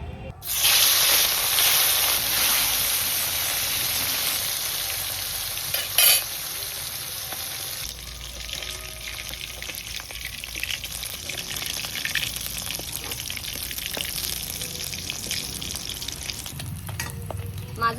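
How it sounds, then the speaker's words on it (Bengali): Pieces of rohu fish fry in hot oil in a wok, giving a loud close sizzle that starts sharply and settles into a steady crackling hiss, with a brief louder spatter midway. "মাছগুলো ভেজে নেওয়ার জন্য কড়াইতে তেল দিয়ে দেবো আর মাছগুলো আমি হালকা করে ভেজে নেবো"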